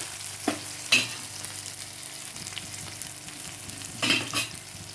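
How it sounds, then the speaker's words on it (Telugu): Onions frying in a pan make a soft, continuous sizzle, broken by a few louder scraping stirs of a utensil against the pan, with no voices. "ఉల్లిపాయలు వేగిపోయినాయండి."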